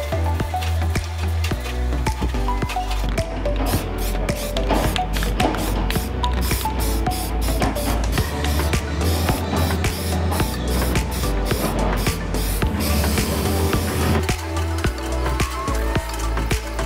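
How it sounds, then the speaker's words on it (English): Primer is sprayed onto bare trailer metal in a camper build, rapid bursts of aerosol hiss in repeated short pulses, loud and close, over a steady low background hum. "And now I'm going to primer. Paying special attention to where I've got bare metal."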